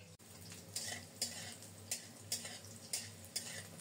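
Plantain pieces fry in a pan for shukto, a continuous close sizzle broken by sharp periodic scrapes and taps of a spatula stirring against the metal, with no talking.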